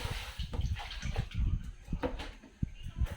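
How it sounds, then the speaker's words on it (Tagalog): Water splashes and trickles as a Tupperware container is washed by hand, soft, uneven sloshes and drips at close range, fairly quiet and intermittent. "itong Tupperware, hugasan ko muna"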